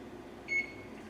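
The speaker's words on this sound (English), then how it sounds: "Oh, I gotta turn the timer off." An electronic kitchen timer gives a single short, clear beep, moderately loud over a quiet room hum while enchiladas are being made.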